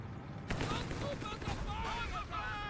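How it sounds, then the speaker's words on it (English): Distant artillery barrage and gunfire from a Company of Heroes 3 battle, a dense rumble of booms and shots running steadily throughout, with sound effects layered under the continuous battle noise. "Guess he was lucky with that long-range barrage."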